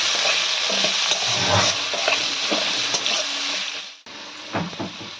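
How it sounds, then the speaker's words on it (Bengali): Onions frying and being stirred in hot tempering oil for a chicken curry with chui jhal, a close, loud hiss with scraping stirs. The sizzle cuts out briefly near the end, then resumes. "এবার ভালো করে পেঁয়াজটাকে ভেজে নিতে হবে, খুব কড়া করে ভাজবো না।"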